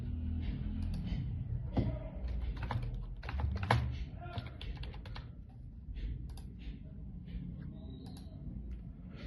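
Fingers tap a computer keyboard entering a taxi's vehicle number on an online road tax form, quick irregular clicks in short bursts, fairly quiet and close, with a low room hum beneath.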